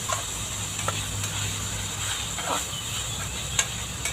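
Curry paste being stir-fried in a pan for a pork and eggplant chili-paste stir-fry, with a steady, soft sizzle and occasional scraping stirs close by and no talk.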